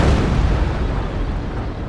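A big bang attack explodes in the strategy game Company of Heroes, a loud, deep boom with broad rumbling that slowly decays over the next two seconds.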